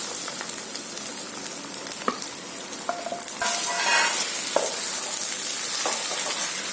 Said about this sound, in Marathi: पहिले मी याच्यामध्ये टोमॅटो टाकते आणि चांगली शिजवून घेते